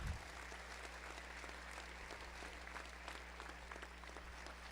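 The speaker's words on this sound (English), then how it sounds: "Please join me for a round of applause for our students from Timber Creek." Applause from an audience at a school district awards ceremony, a steady, even wash of clapping from a crowd heard at a distance with a low hum underneath, continuing without pause.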